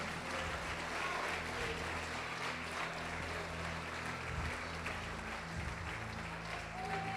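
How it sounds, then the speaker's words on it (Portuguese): A church congregation applauds steadily, a continuous, slightly distant wash of clapping with a low murmur of voices underneath that persists throughout. "Você pode aplaudir o Senhor Jesus?"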